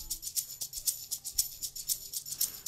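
Second shaker layer for an Amapiano beat: bright, airy jingle-like hits pulsing in a quick, regular rhythm, close and fairly loud, with a soft low thud beneath and no talking.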